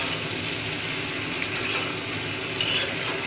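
Potatoes and goat meat fry together in a pan, giving a steady, even sizzle that holds without pause at moderate loudness.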